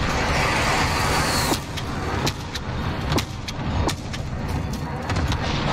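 Vehicle engine rumbling steadily close by in a Modern Warfare battle, with a tank involved, under sharp intermittent gunshot cracks.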